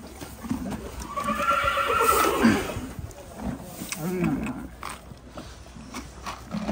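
A horse whinnies at feeding time in a stable, rising and falling over a couple of seconds, followed by a lower snort or grunt amid rustling, hoof and general barn noise.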